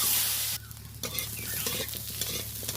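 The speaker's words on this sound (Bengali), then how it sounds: "আলুগুলো একটু নেড়ে একটু লাল হলে ভেজে তুলে নেব" Potatoes with salt and turmeric fry in a little oil in a wok, a close, crackling sizzle stirred around. It is loud at first, then briefly quieter before the frying and stirring resume.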